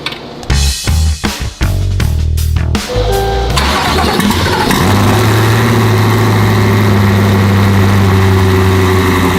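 A car engine cranks in several short bursts, then catches and settles into a loud, steady idle close by. The car has a clutch and updated ignition software.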